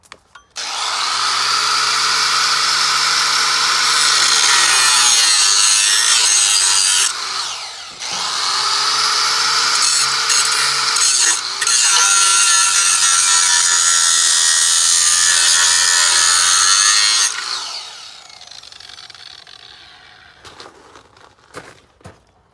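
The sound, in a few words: grinding off a tube on a Ford Foxbody Mustang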